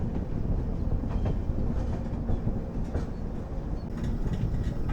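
The Coromandel Express, running with mixed LHB and Humsafar coaches in heavy rain, rumbles steadily along the track, with a continuous close roar and faint rhythmic clatter of wheels and no speech.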